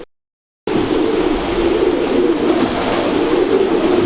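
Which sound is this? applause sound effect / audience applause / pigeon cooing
pigeon cooing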